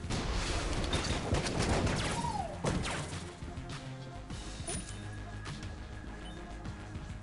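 Rapid gunfire from the RC cannon in the video game Enter the Gungeon: dense bursts of shots and crashing impacts over a busy game soundtrack, with a rising whistle midway, loud at first then easing back.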